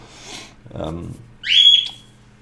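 A bird gives a single bright, high whistled chirp, preceded by brief soft speech-like sounds over a low background hum.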